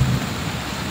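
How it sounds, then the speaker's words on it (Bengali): Thunder rumbles low and steady through a rainstorm that follows a sunny day, a brief close crack at the start giving way to a continuous wash of falling rain, with no voices. "এই যে শোনা যাচ্ছে কি বিদ্যুৎ চমকাচ্ছে"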